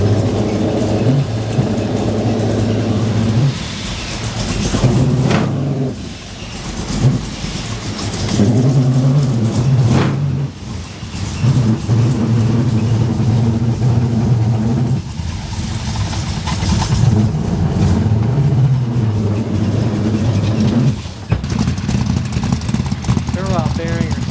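A 1969 Dodge Charger engine with a suspected bad bearing, long unrun, idles and revs loudly and steadily, its rumble rising and falling, with people talking over it.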